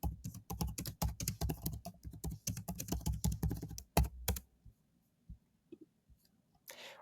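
Close, rapid typing on a computer keyboard, a dense burst of key clicks for about four seconds that ends with a few scattered taps before near silence.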